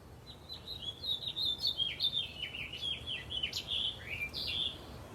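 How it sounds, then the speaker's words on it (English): Birds sing outdoors in a continuous run of bright chirps and warbling trills, fairly close and clear over a soft, steady background, with no talking. "Listen to the birds."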